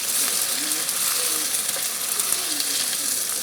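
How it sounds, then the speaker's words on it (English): Yellow polenta flour batter frying in a pan for pizza, a steady bright sizzle with light crackling throughout, close and moderately loud with no speech. "you can see it's frying on the side there"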